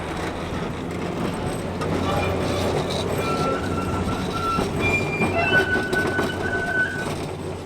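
Baldwin-100 steam locomotive shunting from one track to another at the MOTAT museum, a steady rolling rumble with faint wheel squeals and clanks rising through the middle, heard at moderate distance with some background murmur.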